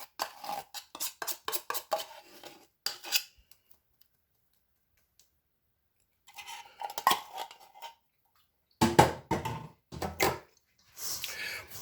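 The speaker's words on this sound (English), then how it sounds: "Just fold, mash, stir, turn it until it is well combined." No-bake cookie dough being stirred and mashed in a bowl, clusters of quick scraping and clacking utensil strokes in bursts separated by pauses, close and fairly crisp.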